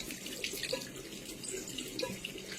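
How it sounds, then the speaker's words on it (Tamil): Tap water runs into a sink while something is rinsed, a steady close gush with light splashes and clinks over a few seconds. "நான் திரும்ப நல்லா வாஷ் பண்ணி காட்டுறேன்"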